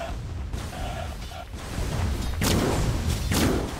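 Dota video game tower shots, with a couple of heavy thumping booms rising over busy in-game clatter and effects, fairly loud and close.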